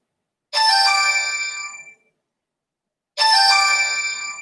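A phone ringtone sounds twice, two bright chiming bursts of about a second and a half each, separated by silence, clear and close.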